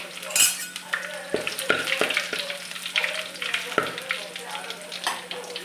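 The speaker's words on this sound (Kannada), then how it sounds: "ಸಾಸಿವೆ ಹುರಿದ ನಂತರ ನಂತರ ಬೆಳ್ಳುಳ್ಳಿ ಹಾಕ್ತಾಯಿದ್ದೀನಿ" Garlic sizzling and frying in hot oil with mustard seeds in a pan, a steady crackling hiss broken by clinks and scrapes of a spoon stirring against the metal, close and clear.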